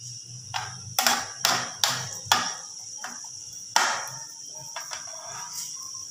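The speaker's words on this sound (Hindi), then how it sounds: "अब हम लेमन और सब मिर्च की जो है कटिंग कर लेते हैं इतनी देर में।" Knife chopping lemon and green chillies on a cutting board in a home kitchen, several sharp distinct chops at irregular intervals, close and fairly loud over a steady high background hiss, no voices.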